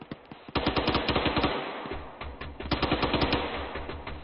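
Rapid gunshots fire in a squad training video game, crisp evenly spaced bursts of machine-gun style shots in two groups with a short gap between, loud and close with no talk over them.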